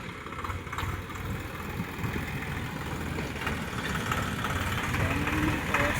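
A Swaraj tractor engine idles close by, a steady low rumble with a faint regular knock that grows slightly louder toward the end.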